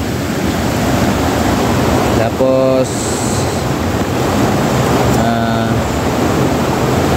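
Water rushing steadily through a channel covered with a tarp, a continuous near broadband wash with a person speaking briefly over it.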